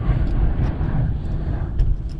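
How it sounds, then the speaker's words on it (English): Strong wind buffeting a microphone outdoors during work on a 1995-99 GM truck, a loud continuous low rumble that swells and dips with faint higher hiss above it. "Sorry about the noise, it's very windy today, as you can tell."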